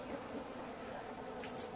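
Caucasian honeybees buzz at the hive as they come out after winter, a soft continuous hum of many wings at low level.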